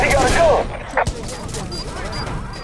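Rapid gunfire bursts in a Watch Dogs firefight, crackling loud and close at the start with a sharp shot near the one-second mark, then thinner distant pops trailing off; a voice talks over the opening.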